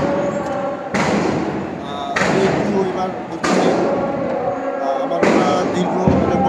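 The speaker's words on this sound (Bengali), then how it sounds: "নিশ্চয়ই শব্দ শুনতে পাচ্ছেন, গুলির শব্দ, সাউন্ড গ্রেনেডের শব্দ শুনতে পাচ্ছেন" Sharp, heavy bangs from gunfire and sound grenades at a street protest in Mirpur, several loud blasts each a second or two apart, with crowd noise and shouting between them.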